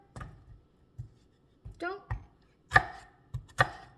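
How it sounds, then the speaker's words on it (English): A knife slices through a pepper on a cutting board in a series of distinct close chops, some crisp and sharp, with someone speaking intermittently between the cuts. "when you're cutting your pepper"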